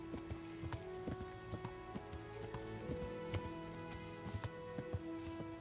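Horse hooves in the medieval game Kingdom Come: Deliverance, a steady clip-clop of a ridden horse walking at an even rhythm, moderately close, over a constant ambient bed with no talk.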